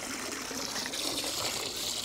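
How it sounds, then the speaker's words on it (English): Rinse water drains out of a Yeti cooler that has just held crawfish, a continuous close trickling and splashing stream of moderate loudness without any talking. "I'm going to let this drain out."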